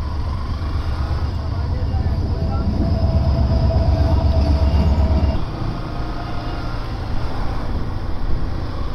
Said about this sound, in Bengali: ট্রেনও চলে আসছে।